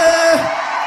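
A worship congregation shouts and cheers in a brief, dense burst of crowd whoops and yells, loud and close, filling the whole moment.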